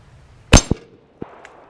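A Glock 21 pistol fires at a target: one sharp, loud crack, then a quick clank, and a fainter metallic clink about half a second later, with quiet between them.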